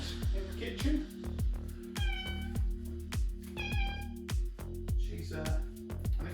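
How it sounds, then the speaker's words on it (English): A cat meows repeatedly in a home kitchen, several clear, fairly close calls spaced through the clip over a steady low hum, with a faint voice nearby. "We have our kitty chef about in the kitchen."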